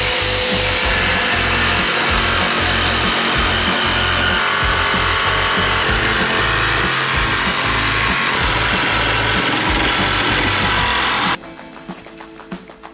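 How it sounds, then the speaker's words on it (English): A jigsaw cuts a window opening through the metal side panel of a van, buzzing and rattling loudly and continuously for about eleven seconds before stopping abruptly, leaving faint clicks and shuffling. "while he's finishing this jigsawing because it's rattling a lot"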